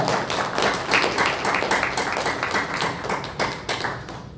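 Congregation at a Christian association general meeting claps for a visiting broadcast director, steady rhythmic applause from a medium-sized crowd in an indoor hall.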